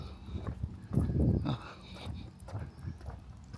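Horses walking with hoof clip-clops on a path in Simi Valley, California, a few uneven steps at moderate distance over outdoor background noise.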